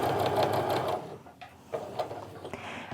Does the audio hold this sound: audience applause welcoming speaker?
no